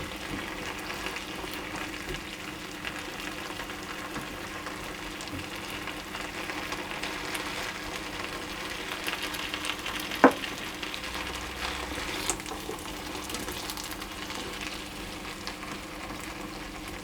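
Sliced potatoes and onions frying in a pan for a Spanish tortilla, a steady, even sizzle and crackle that continues throughout, with a single sharp clink near the middle and no talk.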